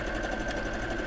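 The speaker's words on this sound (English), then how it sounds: "So I'm just going to stitch through." A Brother sewing machine stitching through quilting, giving a continuous fast mechanical whirr with a steady hum, close up and on its own.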